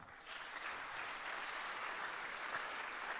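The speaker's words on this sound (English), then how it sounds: "can we give him a good clap?" Steady, fairly distant audience applause fills a university hall at an economics debate, an unbroken wash of many hands clapping with no talk over it.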